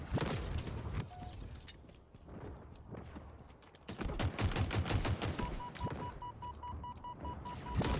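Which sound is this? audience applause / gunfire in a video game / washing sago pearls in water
gunfire in a video game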